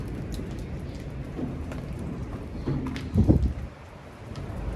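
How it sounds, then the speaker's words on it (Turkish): Steady heavy rain patters on a leaking roof during a severe storm, a dense hiss with scattered drips and a brief louder splashing burst near the end. "Çatıdan matıdan şu anda her yerden yağmur alıyor"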